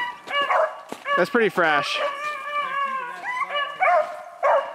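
Beagle hounds on a family hare hunt bark, yip and whine excitedly in quick bursts close by, while someone briefly speaks over them.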